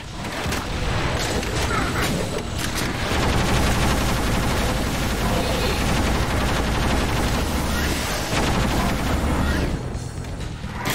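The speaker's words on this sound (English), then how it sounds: "That's the plasma gun." Plasma gun firing in the video game Doom, a dense, continuous barrage of loud rapid shots and booms that fills the whole stretch with hardly a pause.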